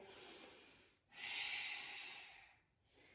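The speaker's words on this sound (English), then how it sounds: "A couple more deep Ujjayi breaths here." Deep Ujjayi breathing during a yoga forward fold: one long, hissing, throat-constricted breath swelling and fading, framed by softer breaths before and after, close and quiet.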